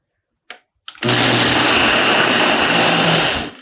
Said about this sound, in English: And it's a Ninja blender.